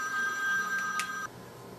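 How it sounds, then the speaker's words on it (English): A telephone rings with a bright, trilling electronic tone that sounds loud and close for about a second, then cuts off abruptly, leaving faint room noise. "And there goes my phone"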